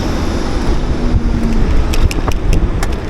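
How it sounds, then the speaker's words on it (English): A garbage truck rumbles close behind on a busy New York City street, a loud low engine drone mixed with traffic noise, wind and scattered clicks and knocks. "Man, we got that garbage truck right behind me."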